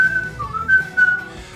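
Someone whistles a short melody for a song's hook, a few clear sustained notes and brief phrases, close and alone.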